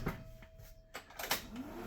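A mini bus door is pulled shut during a pre-trip inspection, giving a few soft clunks and a sliding rattle, fairly quiet and close, with no talk.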